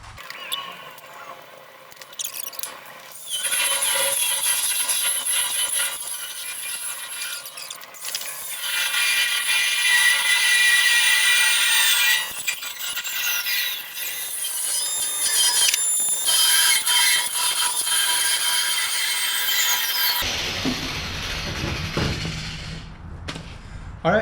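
Metal brackets are ground down during an ice house trailer build: a loud, continuous abrasive whine with shifting pitch that runs steadily for about twenty seconds, then cuts off abruptly, leaving quieter handling noise.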